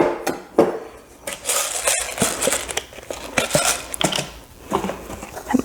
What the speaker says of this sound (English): Almost done taking all my lids off